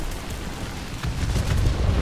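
Rocket impacts and explosions in the War Thunder combat game, fired from a Saab T18B-2 medium bomber, heard as low rumbling booms that swell louder toward the end over continuous battle noise.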